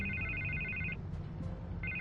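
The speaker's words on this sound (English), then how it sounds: "I can't get the phone to stop ringing." A telephone rings in a Batman video game with a steady electronic trill that sounds for about a second, drops out, then comes back, over a low ambient hum. Nobody speaks.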